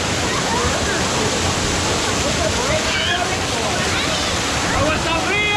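A rainforest waterfall at El Yunque, Puerto Rico: a loud, close, unbroken roar of falling and splashing water that fills the whole stretch, with voices faintly mixed underneath.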